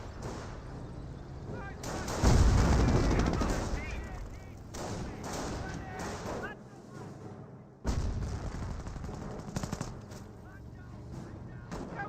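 Battlefield gunfire and heavy explosions from the World War II strategy game Company of Heroes, with loud bursts and booming artillery rising and falling over about twelve seconds.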